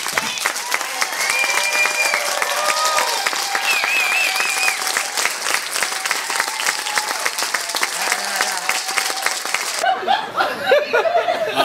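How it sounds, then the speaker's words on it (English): Sustained applause from a theater audience at a memorial event at the Groundlings Theater, dense clapping with some laughter and cheers mixed in, lasting several seconds before tapering off abruptly. "let's all join with the applause box in giving him a big round of applause"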